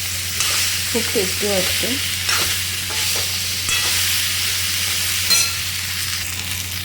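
Cumin potatoes (jeera aloo) are stirred in a frying pan, a spatula scraping and clinking against the metal over a steady soft sizzle, while a person speaks briefly.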